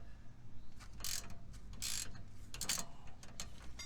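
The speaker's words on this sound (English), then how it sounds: "Thank God it's a ratcheting wrench." A ratcheting wrench clicks on the suspension of a 2017 GMC Sierra pickup during a leveling kit install, with bursts of close metallic ratchet clicks over a steady low background rumble and no talking.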